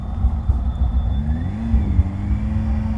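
Cars go by on a night street in Warsaw, a steady engine drone with rising and falling whooshes as vehicles pass, heard from a motorcycle with a low rumble underneath.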